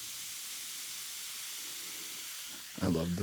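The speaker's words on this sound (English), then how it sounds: "I love the fizz sounds too." Bubbly, fizzing hiss from homemade five-cheese pizza preparation, a steady close-up fizz that runs continuously before a brief louder sound cuts in at the end.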